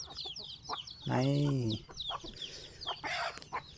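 A traditional Thai fighting rooster on a farm in the morning gives a string of close clucks, broken by one drawn-out, crow-like call. A voice is heard faintly.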